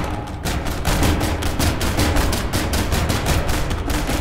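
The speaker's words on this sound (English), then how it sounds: "We've got the banana gun." A banana gun in the People Playground video game fires in a rapid, continuous burst of loud, evenly spaced shots, like a machine gun, with no pauses across the stretch.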